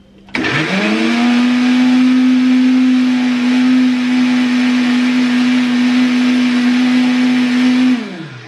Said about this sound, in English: I'm going to be putting in the cucumber and the okra juice into my banana and then blend it